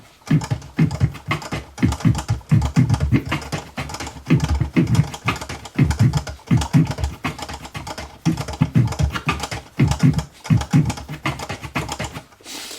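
Rapid rhythmic scratching strokes repeat in a steady drum-like pattern, punchy and close, looping for several bars before cutting off near the end.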